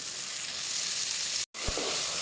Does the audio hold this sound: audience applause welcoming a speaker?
no